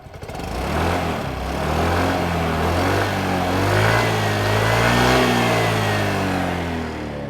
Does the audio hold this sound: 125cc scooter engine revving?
yes